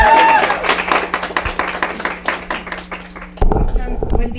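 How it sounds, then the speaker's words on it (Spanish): An audience claps to welcome a guest on a talk program, with sharp, uneven claps that fade out and then break into a louder burst near the end. "Un aplauso para la licenciada"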